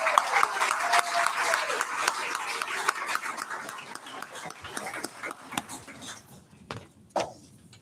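An audience applauds at the grand opening of a Baltimore Ravens College Track center, a dense wash of clapping that gradually thins and fades out toward the end, with a few scattered claps and faint voices.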